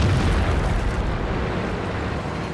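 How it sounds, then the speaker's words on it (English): A tank cannon round slams into the side of a turretless Jagdpanther II tank destroyer in World of Tanks, a heavy, sustained boom whose low rumble slowly decays without speech. "Simba to abuse the fact that the Yag Panther 2 does not have a turret and plants one into his side"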